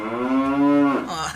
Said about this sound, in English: that's my pet cow, Freedward.